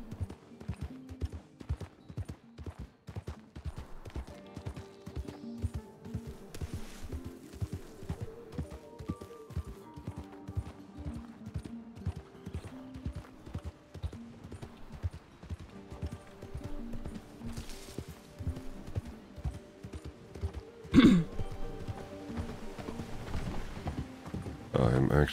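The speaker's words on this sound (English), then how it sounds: "Terror can make a full sprint from Blackwater to Strawberry without slowing down" Horse hooves pound in a fast, steady gallop rhythm in the Red Dead Redemption 2 RedM roleplay game, with occasional creaks and a brief louder thump near the end, and people talking at times.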